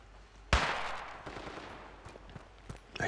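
Gunfire in the mobile shooter Standoff 2 during a competitive match: one sharp, loud shot opens a decaying burst, followed by a scatter of fainter, distant shots.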